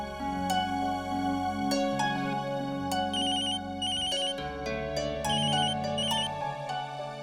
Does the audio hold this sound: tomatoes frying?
no